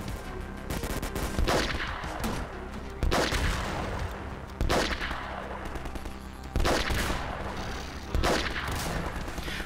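Gunfire rings out while shooting enemies in the video game Half-Life 2 Overcharged, with repeated loud bursts of shots and booming reports recurring every couple of seconds over a dense, rumbling background.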